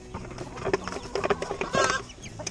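Chickens cluck in a farmyard, big hens and small ones feeding together, close by and in overlapping bursts, with a person speaking over them.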